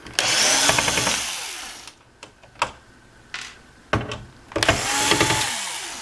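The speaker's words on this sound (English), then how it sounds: "Now you got the 4 screws you got to remove." A power tool drives out the screws on a monitor stand with close, whining bursts at the start and end, separated by sharp clicks and short knocks from handling parts.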